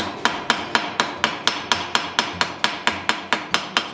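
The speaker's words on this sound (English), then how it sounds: "I'm just sticking a little bit of shaft through there, and I'm just going to peen it over" A ball peen hammer peening over the end of a metal shaft poking through a forged piece, a steady run of sharp, evenly spaced ringing blows, about four per second, close and loud with no talk.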